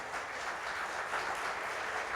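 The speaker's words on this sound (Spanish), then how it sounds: "Dale un aplauso al Señor" A church congregation applauds steadily through the whole stretch, a dense, even wash of clapping from many hands, fairly distant and without a break.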